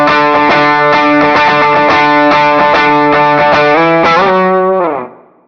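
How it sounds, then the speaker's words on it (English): An electric guitar played through a Fractal amp modeler with a drive pedal and reverb rings out loud and up close: sustained distorted chords shift a few times, then fade into a reverb tail. "Let's kick on this drive pedal."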